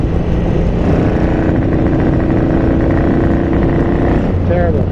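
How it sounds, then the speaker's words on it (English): A Ducati 900SS bevel-drive engine with a Dell'Orto PHM40 carburetor, running lean, is held at fuller throttle and gives a loud, steady roar that continues unbroken for several seconds. "So I'm gonna try the fuller throttle here."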